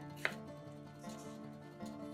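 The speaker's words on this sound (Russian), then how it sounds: "Свежий огурец моем и нарезаем сначала пластинками. А затем разрезаем на брусочки размером примерно как нарезанный перец." A knife cuts fresh cucumber into sticks on a board, with one sharp chop near the start and then softer, steady cutting sounds over a low background hum, no talking.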